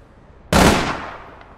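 A single sharp gunshot in the online shooter APB Reloaded cracks out loud and close, then decays in a quick fading tail, standing alone without talk.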